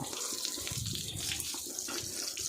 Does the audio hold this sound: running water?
yes